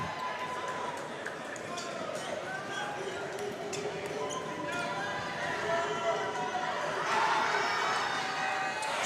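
A fired-up high school student section cheers and shouts in a boys basketball gym, with a ball bouncing on the hardwood and a commentator talking over the steady crowd noise, which swells loudest near the end.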